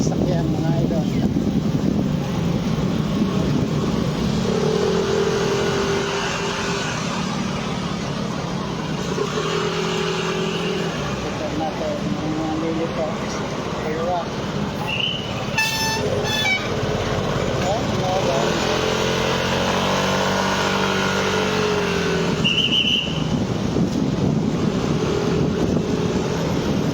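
Busy street traffic in Taiwan at New Year, a steady wash of passing cars and motorbikes with wind buffeting the microphone, a few horn-like tones, and someone talking over it throughout.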